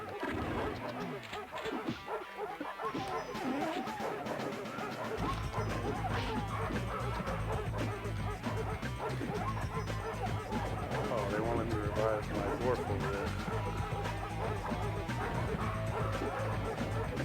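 Dogs bark and yip repeatedly in the 1996 Sega Saturn video game Three Dirty Dwarves, mixed with crashes and game music, while someone talks over the action.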